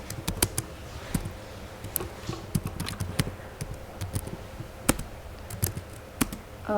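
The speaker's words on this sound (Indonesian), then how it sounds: "yang di labelnya kita ketikkan post test eksperimen" Brisk, irregular clicking of computer keyboard keys as a label is typed, a steady run of close taps for several seconds with no talking over it.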